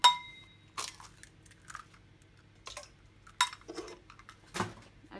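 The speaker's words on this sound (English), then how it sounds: "First I'm going to add the eggs." Eggs knocked against and added into a bowl while preparing a Turkish chocolate cake batter, heard as a few sharp clinks and clatters of shell and dishware spaced over several seconds, close and fairly quiet.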